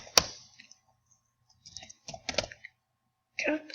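Short bursts of keystrokes on a computer keyboard, close and fairly crisp, with a sharp click at the start and pauses between clusters of taps.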